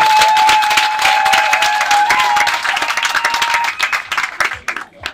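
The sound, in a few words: applause at a customary wedding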